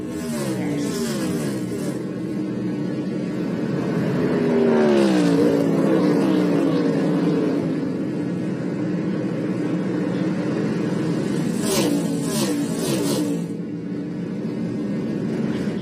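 NASCAR stock cars racing on the final lap at the Ally 400, a steady roar of engines with one car's pitch sweeping past near the middle and a burst of higher-pitched noise toward the end, with no talk.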